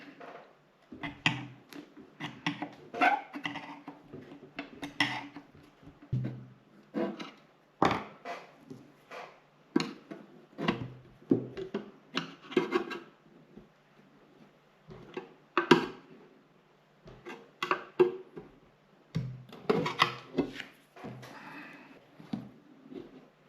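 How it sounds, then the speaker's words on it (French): Screwdrivers levering apart a part on a Mercedes W210 E290, giving irregular clicks, knocks and plastic-like snaps in quiet close bursts, with pauses between efforts. "pour ouvrir, on va faire levier avec des tournevis."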